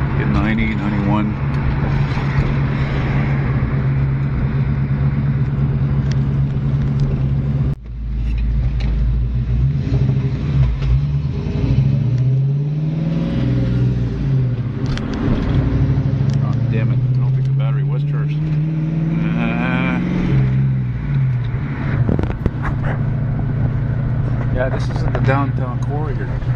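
A 1992 Ford Mustang V8 cruises through a downtown street in Cornwall, Ontario, its steady low engine drone running throughout with brief swells as it accelerates, while people talk inside the car over it.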